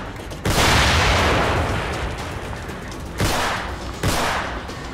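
Loud gunfire in the video game The Evil Within as shots are fired at a barrel: a long initial volley followed by two more sharp bursts, each decaying into a rumbling tail.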